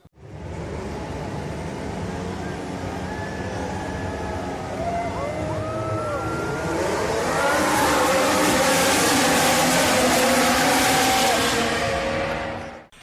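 Race car engines roar at a race start, a loud sustained engine drone with rising whines building and growing louder before cutting off at the end.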